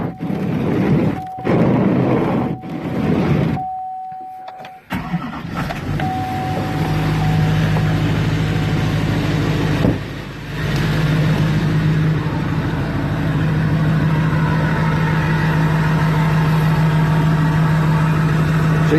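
Diesel truck engine with EFI Live tuning idling through a gutted exhaust with the muffler still fitted, a loud close steady rumble with a droning tone, after some rustling and brief gaps at the start.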